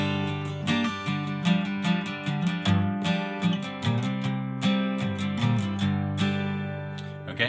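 An acoustic guitar plays a riff, steady strummed chords with quick bassy transition licks, close and clear.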